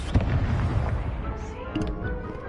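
Spell blasts from the Hogwarts Legacy video game, including levitation, fire and explosive curses, land as a dense run of booming bursts and crackling impacts over a rumbling low end, loud and continuous for a couple of seconds.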